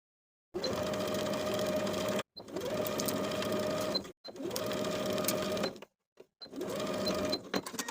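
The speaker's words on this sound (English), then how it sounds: "we'll sew the collar in place with a 3/8 inch seam allowance" A sewing machine stitching a dress collar in place with a 3/8 inch seam allowance, running in several steady bursts of whirring with brief pauses between, close and clear.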